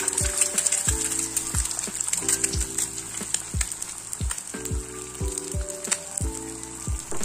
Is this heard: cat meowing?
no